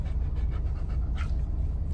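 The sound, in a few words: dog panting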